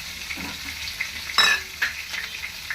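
Onion, ginger, garlic, tomato and curry leaves fry in a pan with a continuous sizzle. A few sharp scraping stirs of a utensil against the metal cut through it, and no one speaks.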